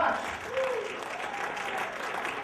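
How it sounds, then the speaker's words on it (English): An audience applauds a volunteer from the crowd, who has put up $100, in a steady wash of clapping with a faint cheer that continues throughout. "everybody will give you a big round of applause"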